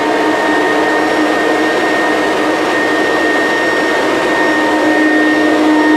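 Vacuum cleaner with a hard floor tool and spinning brush cleaning under a kitchen island, a steady loud whooshing suction roar with a faint high whine, continuous and unbroken with no talk.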